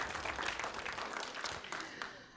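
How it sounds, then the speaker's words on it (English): A live cookbook event audience breaks into clapping, a fairly quiet scattered round of hands that tapers off toward the end. "It's okay, we can clap."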